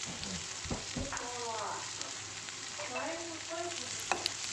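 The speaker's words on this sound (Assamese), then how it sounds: "পিঁয়াজখিনি অলপ ভজা হোৱাৰ লগে লগে আদা নহৰুখিনি দি দিম।" Onions sizzle steadily in a hot pan at the start of a stir-fry of pork with lai greens. The frying is soft and constant, with a faint voice talking briefly over it.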